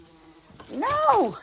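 A bumblebee buzzes close by inside an Irish cottage under renovation, a single swelling drone that rises and fades over about a second, with a brief shout just before it.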